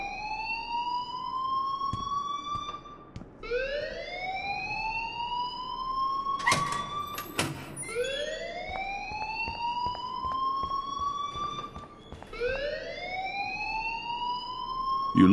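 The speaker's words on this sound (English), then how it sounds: "please turn off that alarm since that's your job" The fire alarm in the video game Life is Strange blares loudly and repeatedly, each cycle a rising electronic wail that sweeps upward about every four seconds, with a brief harsh burst of noise partway through.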